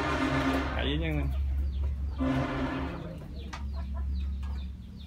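Free-ranging chickens of a tailless breed, kept in a Vietnamese yard where they roost in trees, cluck and squawk nearby, rising in a couple of excited bursts over a steady background hum while someone talks.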